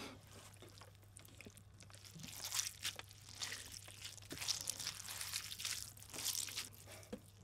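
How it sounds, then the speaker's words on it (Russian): Thinly sliced Japanese konjac noodles squeezed and kneaded by hand: wet squelching, crackling and slippery squishes in irregular bursts, close and fairly quiet, with a steady low hum underneath. "Это тонко нарезанная лапша коньяку. Японская лапуша. Сначала я помну ее руками."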